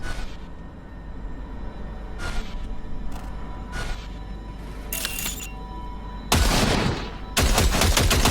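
Gunfire at a shooting range in Cyberpunk 2077, with several sharp, loud shots spaced a second or so apart over a droning background, then heavier bursts near the end.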